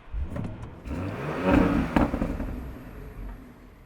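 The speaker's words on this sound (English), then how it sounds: "you can coax a few pops and bangs when you start the car" A 2025 Audi SQ5 V6 engine fires up and revs in dynamic mode, with a couple of sharp pops and bangs from the exhaust, fairly close and loud.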